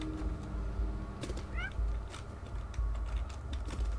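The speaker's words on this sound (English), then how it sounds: "This is a smart cat." A cat meows a few times in the video game Stray, short rising calls over a steady low game ambience and background rumble.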